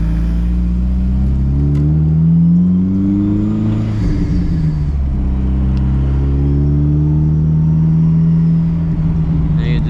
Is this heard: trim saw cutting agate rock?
no